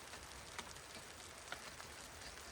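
Faint, steady rainfall outdoors on a snowy night, a soft continuous hiss with a few scattered drop ticks and no voices.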